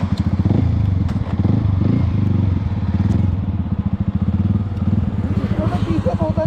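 Yamaha motorcycles (MT-15 and R15 models) line up on a drag race track, their engines throbbing loud and close with a steady pulsing idle and revs building toward the end.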